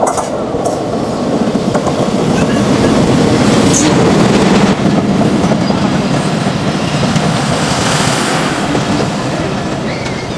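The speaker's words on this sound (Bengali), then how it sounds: "এসেই আমি একটা ট্রেন দেখতে পাচ্ছি যে আসছে" A train rolls into Jagati railway station in Kushtia, Bangladesh's first railway station, with loud, continuous rumbling, rattling wagons and clickety-clack from the wheels. The noise swells as it passes close by, then eases slightly.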